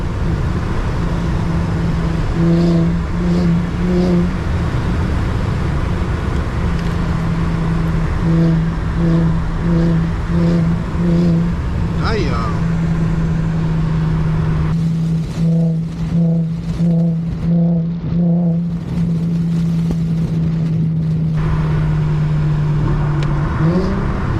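Infiniti G37 at night with its engine droning steadily, rising through revs and blipping during downshifts, loud and close from inside the car.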